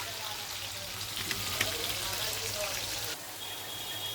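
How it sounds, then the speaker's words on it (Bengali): Potatoes frying in oil in a pan over a wood fire, a soft steady sizzle with faint crackles and spits, fairly quiet and continuous, with a low hum underneath. "আলুটা ভাজা হয়ে গেছে এবার আমরা আলুটাকে তুলে নেব"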